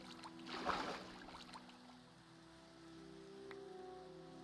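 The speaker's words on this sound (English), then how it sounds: "it is raining, so it might affect" Steady, gentle rain patters throughout in the video game Minecraft, with a brief louder rustling swell near the start and a faint tone running underneath.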